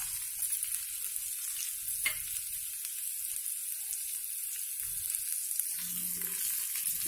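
Onions and potatoes fry in a pan under a quiet hiss of sizzling oil, with a few scattered stirring scrapes and one brief knock near the start, no voices.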